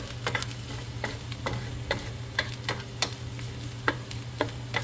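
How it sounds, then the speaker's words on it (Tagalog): Leftover food frying in a pan while being stirred, with repeated scraping strokes at an uneven rhythm over a steady low sizzle and hum, close and moderately loud, with no talking. "Pag may tira-tira, yan, hinalo ko na siya."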